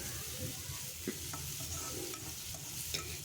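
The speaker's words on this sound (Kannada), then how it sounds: "ಹೀಗೆ ನೀಟಾಗಿ ಚೆನ್ನಾಗಿ ಟೊಮೊಟೊ ಎಲ್ಲ ಫ್ರೈ ಮಾಡ್ಕೊಳ್ಳಿ." Tomatoes stir-fried in a pan over a medium-to-low gas flame, a continuous soft sizzle with light scraping and stirring strokes close by, no talking.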